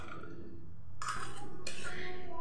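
A ladle scrapes and clinks against a pot of rice and milk cooking for payesh, sharp metallic knocks rising over a low background hum with a soft voice beneath.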